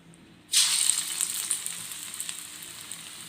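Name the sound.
frying onion drumstick-leaf pakoda, stirred with slotted ladle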